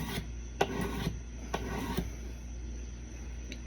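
A knife sharpened on a whetstone, a soft gritty scraping rasp repeated in slow strokes, close and quiet over a low steady background hum.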